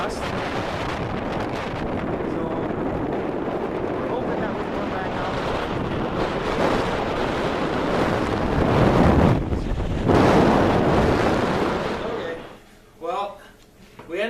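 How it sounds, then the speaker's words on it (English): Strong wind gusts up to 45 mph roar and buffet the microphone continuously, with surging gusts, before easing near the end as a voice briefly speaks. "We're supposed to get up to 45-mile-an-hour gusts."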